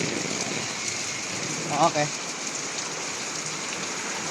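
Steady rain falling in the street around a tricycle driver, an even, close hiss of drops throughout, with a brief spoken word in the middle.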